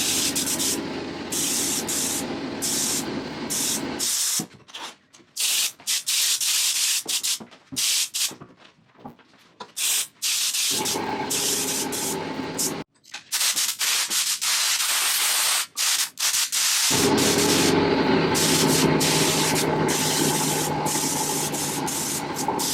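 A spray gun applies finish to a wooden outfeed table in a workshop, loud hissing bursts several seconds long broken by short pauses.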